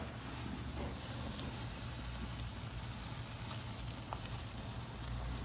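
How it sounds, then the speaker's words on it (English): A chuck roast sears in a hot pan with a steady, soft sizzle of frying fat that holds at an even level throughout, fairly quiet with no voices. "So I'm gonna go ahead and let it sear."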